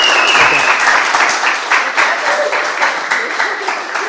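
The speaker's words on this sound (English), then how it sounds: "Big round of applause." A startup event audience applauds a founder's pitch with a loud, dense, sustained round of clapping that fills the room for about four seconds and has no voices over it.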